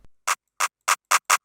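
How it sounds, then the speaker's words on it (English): A clap drum sample layered with a snare, programmed in FL Studio for a trap beat, plays five sharp, bright hits at a steady rhythm, dry and alone with no other sounds. "and the clap here"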